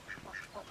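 Ducks in a scene from The Sopranos give a short run of three soft, fairly distant quacks over a quiet background, with no speech.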